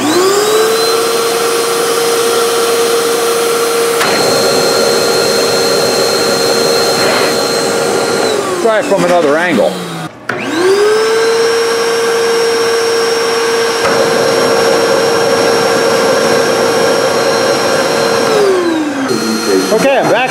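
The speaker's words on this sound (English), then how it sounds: "Okay, I'm vacuuming." A Vacmaster Beast 12-gallon shop vacuum roars with a loud, steady motor whine. It cuts off and winds down around the middle, then spins back up to full power, with a voice speaking briefly over it.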